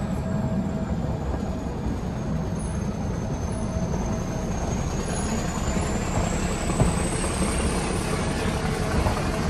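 The Ooty to Coonoor mountain toy train rumbles steadily along the track, heard from inside, with a continuous low roar and a faint high whine drifting over it.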